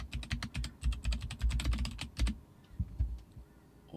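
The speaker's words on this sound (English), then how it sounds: "Type out your message." Rapid, close clicking of computer keys as a caption message is typed, a quick burst of keystrokes that slows into a few scattered taps before stopping.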